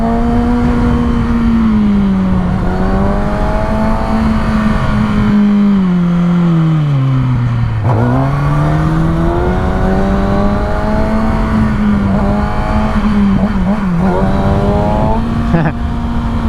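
A Kawasaki ZX6R sport motorcycle engine revs close by. A loud continuous tone rises and falls through repeated throttle blips and holds steady throughout.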